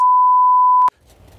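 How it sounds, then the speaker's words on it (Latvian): Steady electronic tone holding one pitch for nearly a second, loud and clean, ending with a click before near-silence. "Un noņem tos pīkstuļus"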